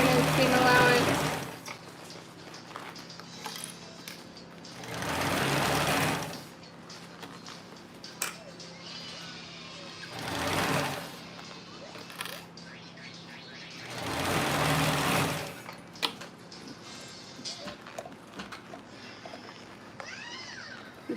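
A sewing machine stitches a 3/8 inch seam in four separate bursts of a few seconds each, with quiet pauses between runs.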